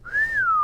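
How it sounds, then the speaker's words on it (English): A single clear whistled tone, gliding up slightly and then down into a sustained note, heard alone and close for under a second. "Milo whistled"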